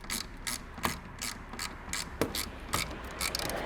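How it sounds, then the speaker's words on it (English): A hand ratchet clicks as bolts are tightened on a 2014 Audi A3 diesel, with a series of sharp, close ratcheting bursts repeating in a quick, uneven rhythm. "my hand is on the head of the ratchet. I'm not even using the ratchet arm"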